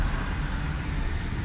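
A Suzuki Alto 1000cc car engine, one with tappet and fuel pickup problems, runs with a steady, dense low drone throughout, close and continuous.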